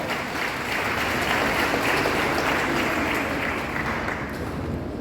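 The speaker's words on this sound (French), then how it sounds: "Je vous demande d'applaudir Monseigneur Péan pour sa présence avec nous ce soir" A large audience at a university parish church concert gives a continuous burst of dense, even applause that fills the room at a steady level throughout.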